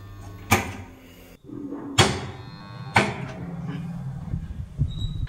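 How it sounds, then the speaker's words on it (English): A jammed 220-volt domestic water pump motor hums steadily without starting, a low electrical drone broken by three sharp clicks or knocks from switching, close and fairly loud. "A humming noise is coming from the motor, and the motor is not starting."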